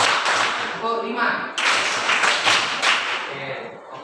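Classroom pupils clap the 'tepuk 5' pattern together, a handful of sharp group claps close by, with a voice briefly heard at the start.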